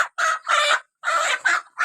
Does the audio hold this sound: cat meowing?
no